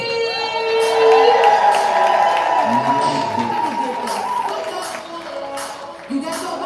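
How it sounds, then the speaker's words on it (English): A live poetry-slam audience in Phoenix cheers and claps for a poet, a loud, sustained roar of crowd noise with a host's voice calling out over it, tapering toward the end. "Can y'all make some noise and clap it up for Ashanti?"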